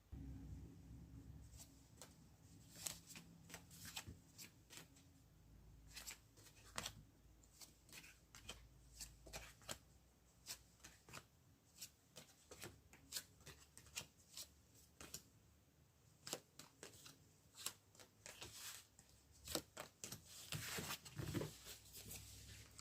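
Tarot cards are shuffled by hand for a reading, a very quiet run of soft flicks and riffling slaps scattered irregularly over a long stretch, close but faint.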